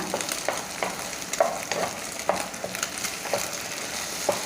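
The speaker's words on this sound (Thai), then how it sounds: "ลงไปคั่วกับไข่ให้หอมเลยนะคะ" Eggs stir-fried with Thai chili paste in a pan crackle and sizzle steadily, with rhythmic spatula scrapes and small pops close by, no voices.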